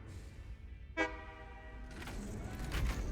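A train in the video game Satisfactory rumbles along, giving one short horn toot, then its clattering grows louder and busier.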